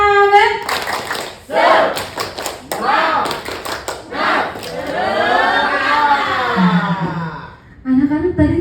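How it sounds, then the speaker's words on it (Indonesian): Students in a teacher-training classroom session clap their hands together, a rhythmic burst of claps mixed with children's voices and wavering chanting, loud and close. "tepuk tangan"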